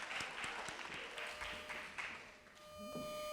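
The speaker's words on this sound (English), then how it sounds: "So let's give him a round of applause." A round of applause at an anniversary kickoff ceremony for the Merze Tate Explorers girls' group: scattered, fairly light clapping that thins out and fades near the end, with a faint tone lingering underneath.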